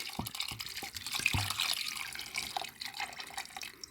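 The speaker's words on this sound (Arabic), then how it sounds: "ونديروا عليها الماء، نعمروا عليها حتى الفوق" Water poured over beans in a cooking pot, a steady trickling and splashing pour that runs throughout with a few drip-like knocks near the start, close and fairly quiet.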